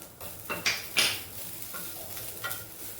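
Rice flour roasting in a pan with cardamom powder, stirred with a metal spoon that scrapes and clinks against the pan in irregular strokes, over a faint background.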